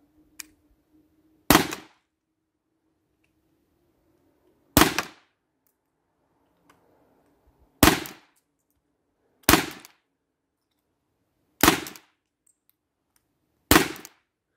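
HDR 50 CO2 revolver fired at a target at 5 metres with fresh CO2 cartridges, six sharp loud cracks spaced unevenly over near silence, with faint mechanical handling between shots.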